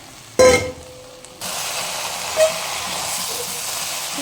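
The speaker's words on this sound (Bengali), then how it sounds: "এবার আমি এখানে দিয়ে নিচ্ছি ভেজে রাখা ইলিশ মাছের মাথাটা আর একটু তেল পোড়াটা।" Fried hilsa fish head dropped into hot oil in a pan, giving a sudden loud sizzle that fades into a steady crackling hiss.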